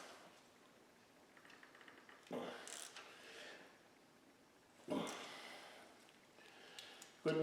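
A wrench tightens bolts on a Model T Ford engine in short bursts of ratcheting clicks and metallic turning, quiet and close, with pauses of near silence between the three main bursts.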